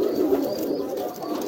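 Brooding pigeons sitting on freshly laid eggs give a continuous low, rolling coo, close and fairly loud, with no one speaking.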